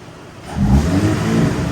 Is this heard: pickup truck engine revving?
yes